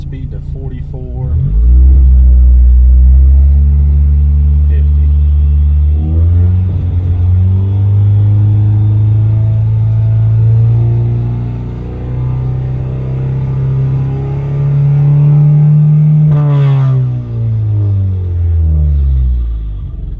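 A Ford Fiesta ST with a straight-pipe exhaust idles loudly up close, then its engine revs up and holds a raised speed before dropping back, with a raspy rumble and someone speaking briefly.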